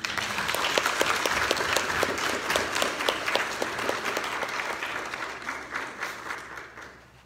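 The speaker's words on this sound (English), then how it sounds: "Let's welcome Carlton with a round of applause" A church congregation at a Lutheran Sunday service breaks into warm applause for a guest, many hands clapping together in a dense, steady patter that slowly thins and fades toward the end.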